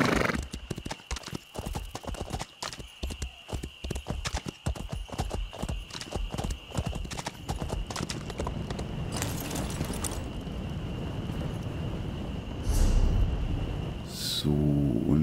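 Horse hooves clip-clopping during riding in The Elder Scrolls Online, a brisk steady rhythm of clear hoof strikes that gives way to softer ambient game sound, with a couple of whinnies and snorts near the end.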